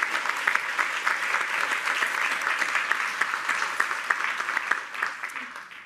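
Audience applause at a research conference, a dense, even patter of many hands clapping at moderate distance, fading slightly at the very end.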